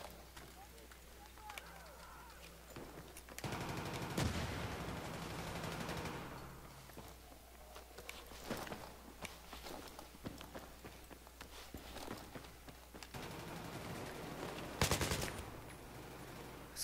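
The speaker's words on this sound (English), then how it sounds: "I'm getting shot at." Rapid gunfire bursts from the Battlefield 3 beta, a military shooter game, crackle in clusters, with loud volleys near the start and end, mixed with footsteps and a voice talking over much of the action.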